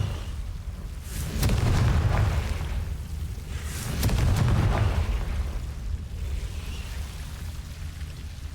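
Confringo blasting spells in the Hogwarts Legacy video game go off as two heavy booming explosions a few seconds apart, each with a sharp crack followed by a rolling low rumble that fades away.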